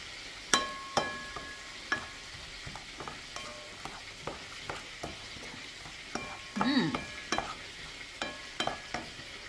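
Chicken yassa ingredients stirred in hot oil: a utensil scrapes and knocks against the pan in scattered sharp clicks over a soft, steady sizzle, fairly close, with no talking.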